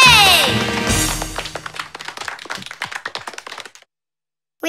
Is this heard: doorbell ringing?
no